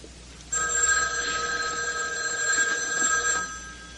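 A house telephone's bell rings in one sustained, loud trill lasting about three seconds over a faint background hiss, with no talking.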